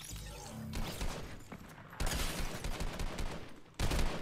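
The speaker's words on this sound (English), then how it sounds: "Someone's shooting from somewhere." Gunfire from Fortnite rattles in fast bursts of shots, moderately loud with pauses between volleys and a sharp fresh burst at the end, without talking.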